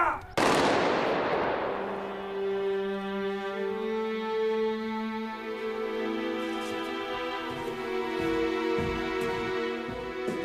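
A firing squad at an execution lets off a sharp, loud volley of gunfire that cracks at the start and then rings out into a long, fading, tonal decay.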